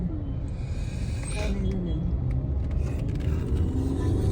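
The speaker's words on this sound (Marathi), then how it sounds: "ट्रॅफिक लागलंय." Steady low rumble of car traffic stuck in a jam on a road, continuous and fairly close, with faint voices and a brief higher tone partway through.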